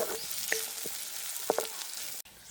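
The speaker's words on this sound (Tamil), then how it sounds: "எங்களுக்கு வெங்காயம் நல்லா பொரிஞ்சு வரணும்" Onions fry in hot oil with a soft, close sizzle, broken by a few light utensil taps and scrapes, ending with a sharp click.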